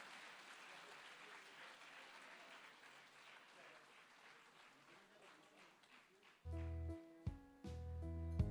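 An audience at the Phoenix Award event honoring Mammootty claps in soft, distant applause that holds steady for several seconds before music swells in near the end.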